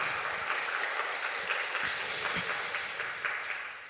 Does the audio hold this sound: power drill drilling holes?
no